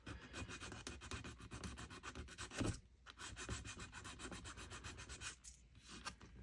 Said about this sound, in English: This is a very difficult area to sand in